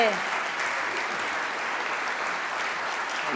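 Audience applause at a gastronomic forum session closing, a steady, moderately loud wash of many hands clapping that holds evenly throughout, with a voice briefly audible at the very start.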